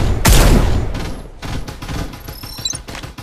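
Rapid gunfire bursts in the battle royale shooter Farlight 84, loud and dense with a big blast up front, followed by repeated shots and sharp metallic pings, no talking.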